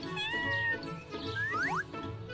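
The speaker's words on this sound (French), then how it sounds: "Quel gentil chaton!" A kitten meows several times in a cartoon, giving high, rising mews in quick succession over a soft music bed.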